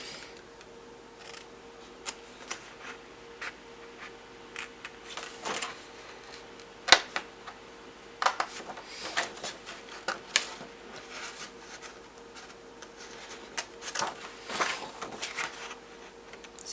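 Scissors cut around the outside of a paper box template in a run of quiet, irregular snips and crisp clicks, some close and sharper, over a faint steady background hum.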